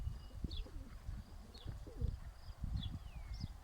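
Pigeons coo softly in repeated low murmurs, with a few faint higher chirps and light shuffling noises nearby.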